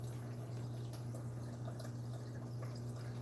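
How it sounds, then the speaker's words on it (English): Aquarium water spilling through an overflow fitted with filter socks into the heater chamber, a soft continuous trickle and drip over a steady low pump hum, faint and even throughout. "So right now I can hear the water in the overflow where the socks are."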